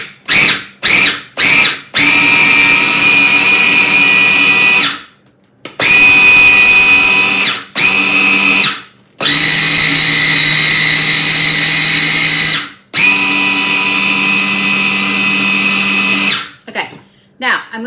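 Electric grinder grinding bologna for a sandwich spread, running in loud, harsh whining bursts of several seconds each, with a few short stuttering pulses at the start and brief silent gaps between runs.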